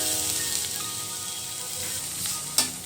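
Onions frying in hot butter, a steady broadband sizzle and crackle with a brief sharper spatter near the end, no voices.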